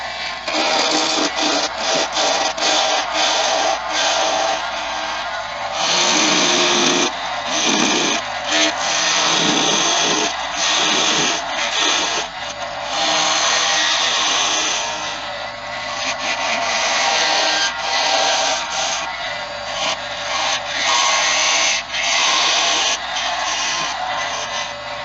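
Skew chisel turning wood on a lathe, a continuous loud scraping and rushing hiss with rhythmic pulses as the blade cuts the spinning workpiece, close up and steady throughout.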